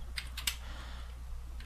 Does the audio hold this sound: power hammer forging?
no